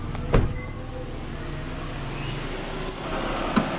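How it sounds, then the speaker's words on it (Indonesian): A 2013 Chevrolet Spin LTZ petrol engine runs at a steady low idle nearby, with a sharp click near the start and another near the end. "ini untuk suara mesinnya masih sangat halus sekali bagus"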